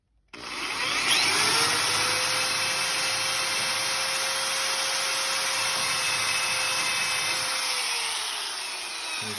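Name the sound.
drilling with a countersink bit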